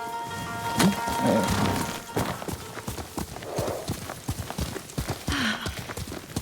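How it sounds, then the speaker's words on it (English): Horse hooves clip-clop at a gallop in the feudal Japanese samurai game Ghost of Tsushima, a steady rapid rhythm with a short whinny and game sounds over it, fairly close and loud. "Horse!"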